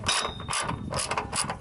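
Quick repeated clicking of a ratchet wrench tightening a nut or bolt on a Suzuki muffler, several close, crisp bursts of clicks with brief pauses between them.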